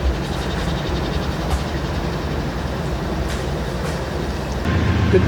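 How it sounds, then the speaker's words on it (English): A train runs steadily along railroad tracks beside an abandoned military compound, its continuous rumble and faint rhythmic clatter holding loud and close throughout, with a slight swell near the end. "The train tracks that we came down has a train on it right now."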